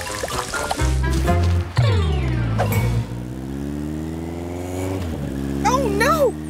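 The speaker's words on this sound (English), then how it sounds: "let's see if the mayor's motorcycle will still work with an engine full of mud" An animated cartoon motorcycle's engine sputters, revs and gurgles with mud inside, its pitch sliding and wobbling over several seconds while characters talk over it.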